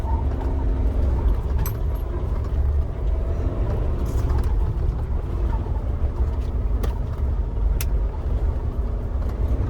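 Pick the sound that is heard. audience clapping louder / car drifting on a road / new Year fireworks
car drifting on a road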